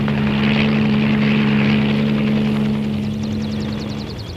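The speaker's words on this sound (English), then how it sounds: "Commute to work or play in your own personal helicopter" A personal helicopter with an acrylic bubble cabin flies past, its steady droning engine and rotor whine loud at first, then gradually fading as it moves away.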